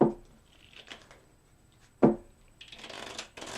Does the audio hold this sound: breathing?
no